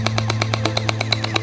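Rapid bursts of gunfire, about a dozen sharp shots in a steady quick rhythm over a low constant hum, with no voices.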